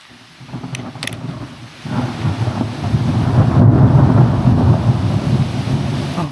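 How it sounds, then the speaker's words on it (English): Thunder rumbles through a thunderstorm under a tree beside a pallet-wood tree house build, starting faint and swelling into a long, loud rolling boom with rain in the background. "Underneath the tree in a thunderstorm."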